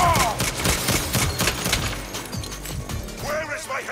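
Heavy gunfire from the game Saints Row fills the scene, a loud, dense volley of overlapping shots and impacts that eases toward the end, with voices heard over it.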